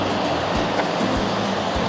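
Large ocean waves break in a cove in Portugal, filling the air with a loud, steady roar of surf and a heavy low rumble, with no voices.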